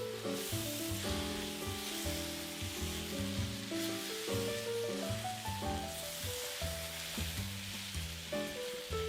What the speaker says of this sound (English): add in 2 tablespoons of tomato paste, 1 can of crushed tomatoes, or about 3 large chopped tomatoes, and cook that for about 10 minutes.